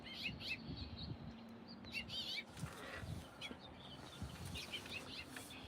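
Birds chirp and tweet repeatedly in short bursts at moderate distance, over a steady low background hum.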